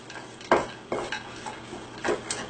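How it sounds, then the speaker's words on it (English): Pecans being tossed in honey in a cup or bowl, with a few soft clinks and stirring scrapes in short bursts, close and fairly quiet. "I'm just going to toss these pecans in this honey"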